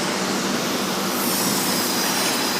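A Sydney Tangara suburban electric train passes through Milsons Point station, a steady, loud broadband rumble of wheels and motors that fills the short stretch without pause.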